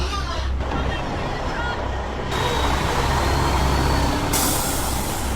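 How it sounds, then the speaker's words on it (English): Truck at a pig slaughterhouse in Burlington on a hot day, a steady loud engine rumble with hissing air brakes and a sharp change in tone partway through, the noise continuous throughout. "This is the third truck we've seen"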